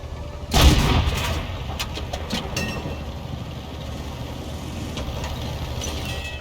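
The 90mm gun of a BDR G1 B tank fires in a tank video game, one loud booming shot that fades into a continuous low engine rumble for several seconds.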